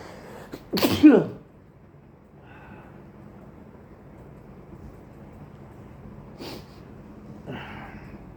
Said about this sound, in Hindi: मुझे छींक आ रही है